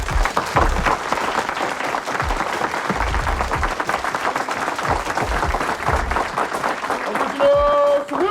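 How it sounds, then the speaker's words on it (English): An indoor crowd at a Philadelphia mosque event gives a rousing round of applause, dense sustained clapping filling the room, with voices and a brief tonal sound near the end. "we want to receive with a rousing round of applause our beloved Captain here"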